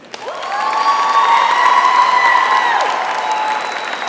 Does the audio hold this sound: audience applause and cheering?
yes